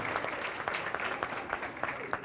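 A conference audience at Juhtimiskonverents 2019 gives a short, light round of applause, scattered claps over about two seconds in a large room, with some voices mixed in.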